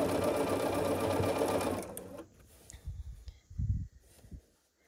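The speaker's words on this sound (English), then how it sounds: "let's just drop a needle here and start sewing" A sewing machine stitches a seam on a hunter's star quilt block, running steadily and loudly for about two seconds before stopping, followed by quieter handling noises.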